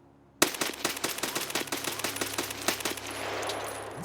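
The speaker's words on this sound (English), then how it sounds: "We're going to start with the M4. We're going to do a little bit of single shot and then uncontrolled full auto and controlled full auto." M4 rifle fire in Escape from Tarkov, a stock weapon in recoil testing: a sudden burst of rapid, evenly spaced loud shots in full auto, about a dozen cracks in quick rhythm, trailing into a ringing wash after the last round.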